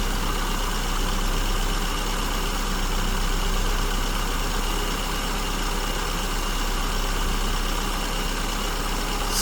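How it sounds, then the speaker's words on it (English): An engine idles continuously with a low rumble and broadband hum as fuel is added to its idle mixture, holding a fairly even, loud level throughout. "You can hear the engine speeds picking up."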